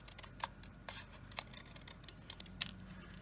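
Scissors snip through colorful paper scraps for a heart flower card, a few crisp, quiet cuts spaced irregularly and heard up close in a still room.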